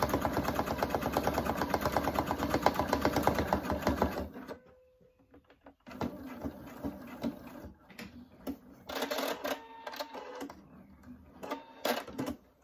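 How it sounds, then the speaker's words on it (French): Sewing machine stitching along the seam of assembled patchwork pieces for a flying-geese quilt block, a steady rapid mechanical whir for several seconds, then a pause and shorter bursts of stitching with brief stops. "Et je vais simplement piquer à l'endroit où j'ai assemblé mes morceaux."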